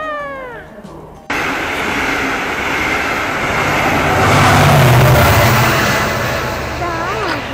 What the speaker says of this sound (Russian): А хочешь посмотреть на поезд, да? Классный поезд.